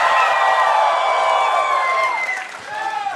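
Convention crowd at PAX East cheering and yelling in a large hall, a loud burst of whoops and shouts that fades briefly and swells again.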